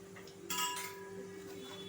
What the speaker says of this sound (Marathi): इथे मी कढई ठेवली आहे